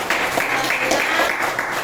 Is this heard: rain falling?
no